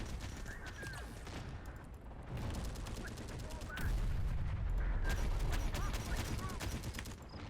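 Siege units in Terminator Dark Fate Defiance fire as distant rumbling booms and clustered shots over a constant battle din, swelling louder in the second half.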